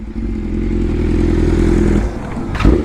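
A Bajaj NS motorcycle running low on petrol and being ridden in wheelies, its engine giving a loud, steady drone that drops off and then ends in a clattering scrape. The sound is close up.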